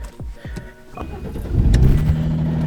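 A car's engine turns over and catches, a few sharp clicks and a brief crank giving way to a steady, rising idle hum inside the vehicle, fairly loud and with no talk.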